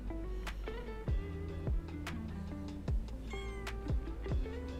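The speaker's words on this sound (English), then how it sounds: "Are you meowing?" A cat meows several times in short, rising calls over a steady low mechanical hum.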